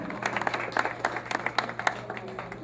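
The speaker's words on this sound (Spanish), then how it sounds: "Aplaudan, señores, aplaudan por favor, con ánimo" An audience applauds at an award ceremony as the placings are announced: a patchy, moderately loud run of scattered claps over a steady low hum, with some voice mixed in.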